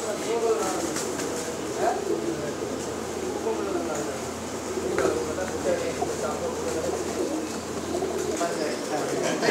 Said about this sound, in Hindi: बहुत अच्छे नस्ल के कबूतर हैं जी।